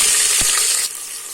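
Sliced onions frying in a pan of hot oil with whole spices for kuska, a steady loud sizzle with a brief stirring knock before the sound drops to a quieter hiss.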